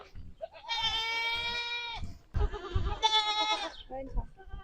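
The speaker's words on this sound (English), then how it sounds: "These are all the little boy goats." Young male goats on a farm bleat loudly and close by in two long, wavering calls, with scattered thuds and shuffling underneath.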